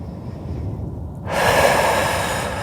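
Deep breathing during a guided meditation: a soft, long inhale and exhale heard up close, with the airy rush rising partway through.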